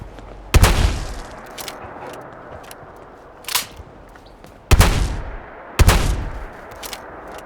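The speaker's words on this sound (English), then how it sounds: "This is the KS Infinity 0 shotgun. It is the greatest shotgun ever created." Loud shotgun blasts from the KS Infinity 0 shotgun in the video game Fallout 4. Three heavy booms with long decaying tails, plus a fainter shot, fire at irregular intervals over a low ambient background, with no talking.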